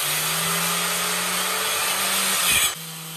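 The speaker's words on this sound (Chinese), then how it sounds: "像这样的切割机专门是给右手设计的，我一个左撇子用着好难受。" A handheld cutting machine whines steadily and loudly while cutting a kitchen sink cabinet during a double-basin sink replacement, then abruptly stops near the end with no talking.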